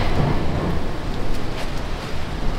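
Steady rain hissing down outdoors, a dense, even wash of noise heard close by with no voices over it.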